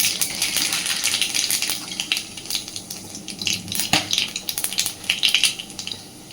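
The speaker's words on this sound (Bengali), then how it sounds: "তেল সুন্দর গরম হয়ে গেছে। আমি প্রথমেই ফোড়নে দিয়ে দিচ্ছি একটু কালো জিরে।" Black cumin seeds (kalo jire) crackle in hot oil as a tempering before water lily stems go in, a steady close sizzle with scattered sharp pops and light clinks of utensils, no talking.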